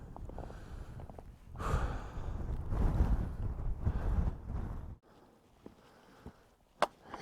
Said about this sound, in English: I'll at least be out of this wind.